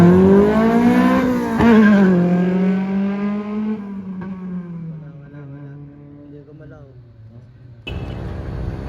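A Honda Civic ESI engine revs at a car meet, loud and near, its pitch climbing and then settling into a sustained high drone. People talk over it.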